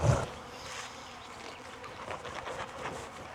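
Honey bees buzzing inside an opened hive in Jacksonville, Florida in February, a dense, steady hum of many insects close by, with a brief handling knock at the start and no talking.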